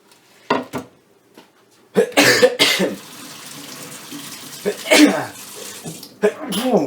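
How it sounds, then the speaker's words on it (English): A few sharp, explosive bursts like a sneeze, with short pauses between them and some quieter noises and breathy sounds nearby. "I'll always have to sneeze from these fumes"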